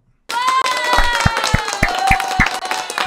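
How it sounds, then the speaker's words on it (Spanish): Scattered hand claps ring out over a busy crowd murmur during a live Spanish class, a few sharp claps standing out close by. "un aplauso a todos"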